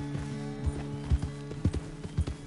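Horse hooves clip-clop at a steady walking rhythm in Red Dead Redemption 2, close and distinct, with a soft tonal music bed running underneath and no talk.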